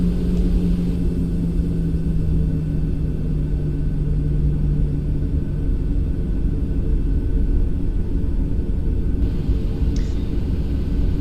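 In the X-Plane 12 flight simulator, a light aircraft taxis with a steady, loud engine rumble and drone throughout, the pitch dipping slightly early on, with no talking.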